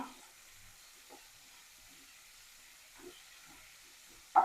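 Tomatoes fry in a pan for Udupi sambar while a spoon stirs them, a soft steady sizzle with a few light scraping touches and one louder clank near the end.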